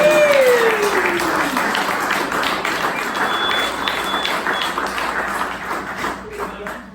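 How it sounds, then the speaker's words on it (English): A large crowd applauds loudly and steadily, the clapping fading slightly toward the end, with some cheering mixed in. "give yourselves a huge round of applause"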